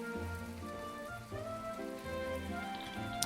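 Steady rain in the video game My Time at Portia, a soft continuous patter layered under game music with a faint chime near the end.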